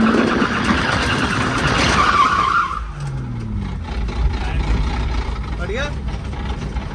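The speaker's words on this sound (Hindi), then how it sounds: "अब करने वाले हैं ड्रिफ्ट E90 में।" An E90 car drifting, with a loud engine roar and a harsh tyre skid that drops away midway, followed by a rising squeal near the end; a voice talks over part of it.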